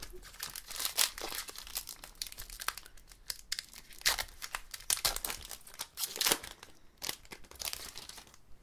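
Pokémon Sword and Shield booster packs are torn open and their foil wrappers crinkled, loud close bursts of tearing and crackling in irregular clusters with short gaps, and no voice over them.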